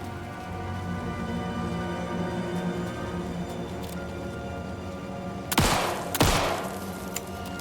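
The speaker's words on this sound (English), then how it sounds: "I heard gunshots" Two sharp, loud video game gunshots in Alan Wake 2 ring out near the end, after several seconds of steady low mechanical hum and ambient drone.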